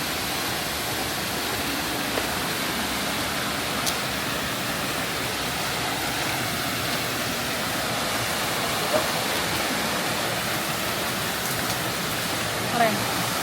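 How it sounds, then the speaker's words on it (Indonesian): Waterfall below a cave at Riam Kuweg in Kalimantan, a steady broadband rush of falling water that fills the whole stretch, unbroken and close. "Ini di bawah goa terdapat air terjun."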